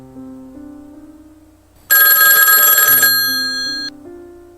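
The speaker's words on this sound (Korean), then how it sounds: "그런데 그때 전화가 울렸습니다." A telephone rings with a loud, bright electronic bell tone that lasts about two seconds. Quieter sustained music tones play underneath before and after the ring.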